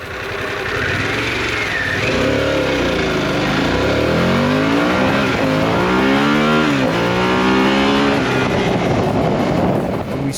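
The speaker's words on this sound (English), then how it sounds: "The bike performed as it was meant to, giving you the most natural feeling between the throttle opening and the bike accelerating." Motorcycle accelerating hard under open throttle: a loud, close engine roar rising steadily in pitch through the gears, with brief dips at the shifts before climbing again, sustained with no talk.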